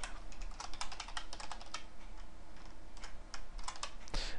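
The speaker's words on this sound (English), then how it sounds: "while I'm typing this out here" Rapid, steady typing on a computer keyboard, close and clear, a continuous run of light key clicks with brief pauses and no talking.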